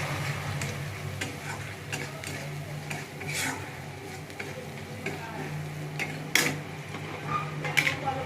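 A spoon scrapes and taps against a pan while cumin and coriander powder masala is stirred, giving a run of quick irregular clinks and ticks over a faint sizzle, close and fairly quiet.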